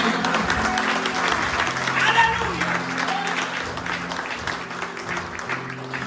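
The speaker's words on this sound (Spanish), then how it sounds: "Hacer un aplauso a eso." A church congregation claps together in a sustained wash of applause, moderately loud, with a low musical drone and a few voices underneath.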